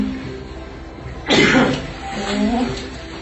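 A man lets out a sudden burst like a sneeze or cough, loud and close, followed by a quieter throaty sound; indoors with a faint hum beforehand.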